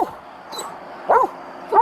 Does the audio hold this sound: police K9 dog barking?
yes